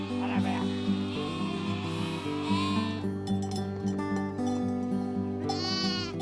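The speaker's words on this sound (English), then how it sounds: "help prevent wildfires using sheep and lambs" Sheep and lambs on a Nevada ranch, kept for wildfire prevention, bleat several times over a steady low drone, with buzzing flies or insects and no talk.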